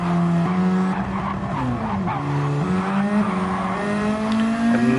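Race cars at the Suzuka 1000km Legends endurance event braking hard into a chicane, with engine notes dropping and shifting through downshifts and tires squealing, loud and continuous throughout.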